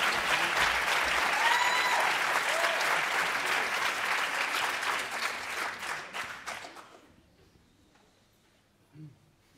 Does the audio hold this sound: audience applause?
yes